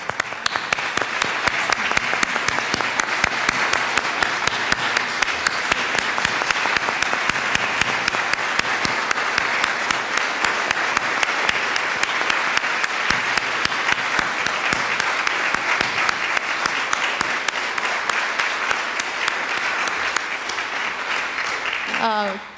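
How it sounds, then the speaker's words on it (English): An audience applauding at a talk on Buffalo National River and the visual arts, a sustained dense wash of clapping hands lasting over twenty seconds before tapering off at the end. "We can all give him an applause."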